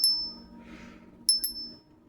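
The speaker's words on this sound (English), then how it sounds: "I love the sound of the bell." A small bell struck during an energy cleansing, two clear bright rings with the second and third strikes close together, each tone lingering and decaying in a quiet room.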